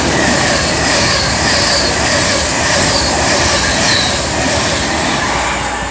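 A Pendolino train passes on the West Coast Main Line at Marston Green, a loud, steady rush and rumble of wheels on rails with faint squealing, close by and without talk.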